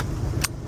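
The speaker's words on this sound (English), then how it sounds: "So I had to get the engine going" A vintage RV engine on a winter start-up rumbles low and steady close by, with one short sharp click cutting through partway.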